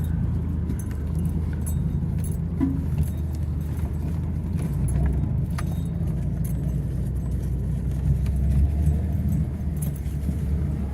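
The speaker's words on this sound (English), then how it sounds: "see if I can get swung around here and get enough momentum to get up past Camp A and do all that without tire spinning" Pickup truck on a farm driving and trying to climb a slope without spinning its tires, a steady low engine rumble close up with faint rattles and clinks throughout.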